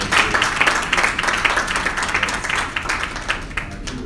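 A round of applause from an audience, brisk clapping that swells at the start and stays steady, gradually thinning slightly toward the end, close and fairly loud.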